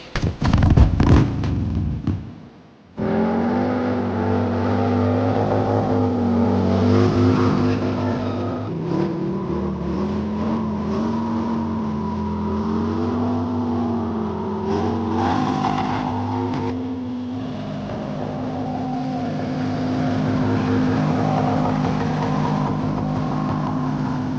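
A loud 2025 Harley-Davidson Low Rider S engine with a Bassani Ripper exhaust, Star M28 cam and Arlen Ness Big Sucker air cleaner starts with a burst of crackling, then settles into a deep, steady rumbling idle with occasional revs, heard alone throughout.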